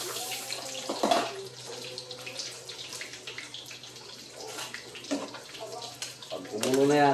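Tap water runs in a steady stream in a home kitchen during cooking, a continuous rushing splash with voices talking over it.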